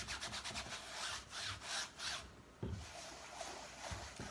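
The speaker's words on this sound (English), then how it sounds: "Just really rubbing that paint in, getting a nice coating on this canvas." Oil paint being rubbed into a canvas in circular strokes makes a close, rhythmic scrubbing and rasping, a swishing rub that swells and fades with each pass.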